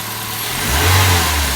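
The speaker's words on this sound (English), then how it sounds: "Give it a little rev." Toyota Corolla engine revved after a spark plug change, rising from idle into a short, loud rev and holding there, close to the car with no talking.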